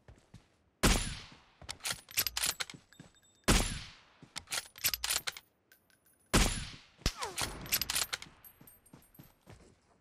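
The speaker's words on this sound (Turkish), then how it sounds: "Soldan sıkıyor bana." Gunfire in the mobile battle-royale game PUBG Mobile: several sharp, loud bursts of shots arriving in three clusters, each a rapid string of cracks with ringing tails, separated by brief quieter gaps.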